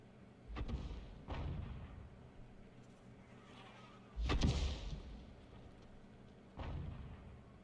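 Booming shots from a 105 mm leFH18B2 self-propelled artillery gun in a tank video game: four heavy, thudding discharges spaced a few seconds apart, each followed by a short rumbling decay.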